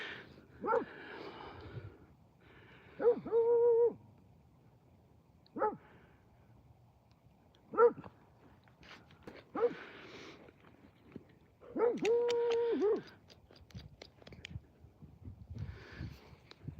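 A pet dog howls and whines in long, wavering calls in several bursts, with short yips between them, moderately close in a quiet room.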